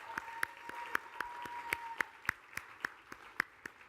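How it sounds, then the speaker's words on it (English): Audience applause at a team-development talk, sparse and fairly faint, with distinct individual claps in a loose irregular rhythm and no voices. "Give her a round of applause."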